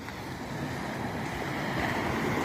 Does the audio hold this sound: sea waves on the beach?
yes